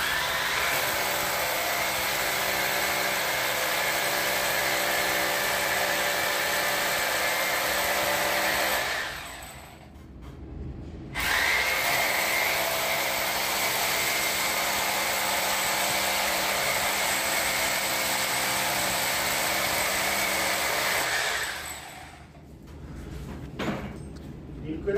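An electric drill bores a hole into a ceiling for a fan hook, a loud, steady whine that runs continuously, pauses briefly, then resumes for a long stretch before stopping.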